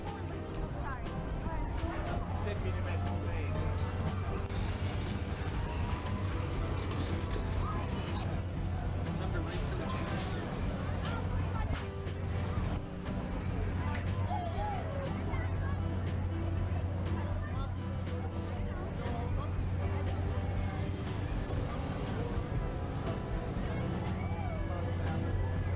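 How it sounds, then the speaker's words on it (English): Kiddie fairground rides run in the children's area of the Big E, the Eastern States Exposition fair, under steady crowd hubbub and distant machinery hum, with people talking throughout. "here's the rides in action. This is the kiddie area of the rides"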